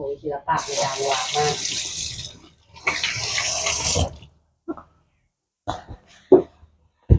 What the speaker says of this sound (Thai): ล้างมือเนี่ย